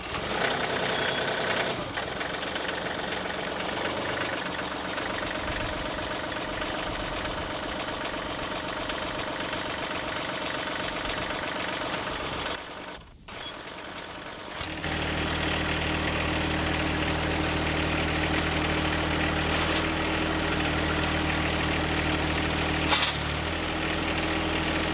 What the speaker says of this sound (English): So I've left the tractors running